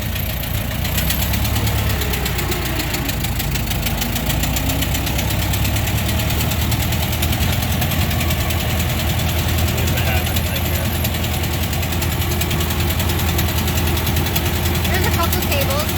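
A Ford Model T engine runs steadily while driving in first gear, a continuous loud mechanical drone with rhythmic knocking throughout and road noise mixed in.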